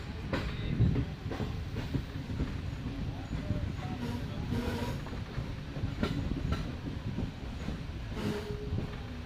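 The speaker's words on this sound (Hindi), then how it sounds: "पता नहीं ब्रेक्स क्यों अप्लाई हुए हैं यहाँ पे" A passenger train on the Hyderabad-to-Rohri line in Sindh brakes and slows on the rails, a steady low rumble of wheels and cars with faint clicks running throughout.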